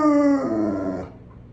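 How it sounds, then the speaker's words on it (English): A dog gives one loud, close howl that holds a wavering pitch for about a second and then breaks off, alone with no talking. "that's the bestest howling you've ever done"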